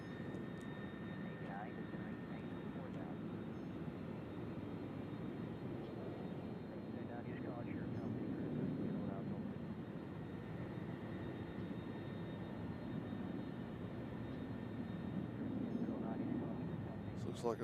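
A WestJet airliner at Nashville International Airport produces a sustained jet engine roar that swells slightly midway, with people talking intermittently over the steady rumble.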